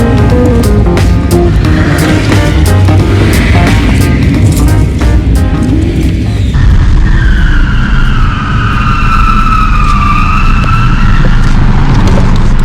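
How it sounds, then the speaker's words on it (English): A car spinning donuts nearby, its engine revving hard and continuously while tyres squeal in long rising and falling tones in the latter half. "Someone's ripping a donut over there"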